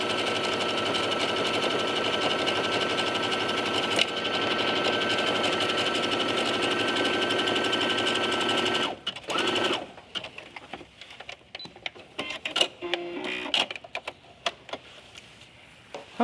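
A sewing machine runs fast and steady while stitching fabric, including a bit of back stitching. The motor whirs for about nine seconds, then stops, leaving scattered clicks and handling noises.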